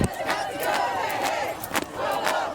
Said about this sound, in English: The crowd taking over the park and street, chanting, "This is what democracy looks like."